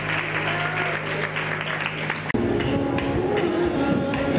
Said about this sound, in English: Can we please give a round of applause again to Ray?